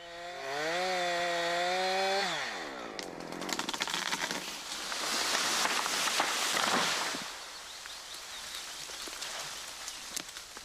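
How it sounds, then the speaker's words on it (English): A Husqvarna chainsaw revs up, then bites into a tree trunk being felled, a loud sustained rasping cut with shifting engine pitch, close and without talk. "Keep sawing until the bar is parallel with the directional notch on the other side."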